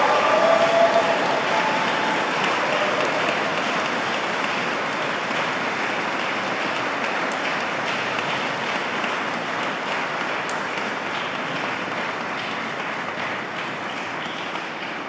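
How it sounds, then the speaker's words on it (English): A large audience at a graduation awards ceremony gives a long, warm round of applause, a dense, even wash of clapping that holds steady and eases off slightly across fifteen seconds. "show their appreciation of the support they've had by giving them a warm round of applause"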